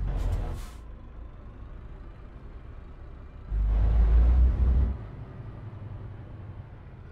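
Heavy truck in Euro Truck Simulator 2 with a steady low engine rumble, a brief hiss at the start and a louder surge of engine noise midway before it settles back.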